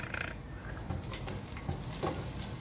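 Garlic sizzling in hot oil with some stirring, a close, busy crackle and hiss at low level, with no talk.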